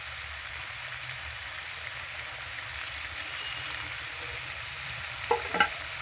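A spiced mixture with yogurt, salt and green peas sautés in a pan, giving a quiet continuous sizzle with a few scraping stirs near the end.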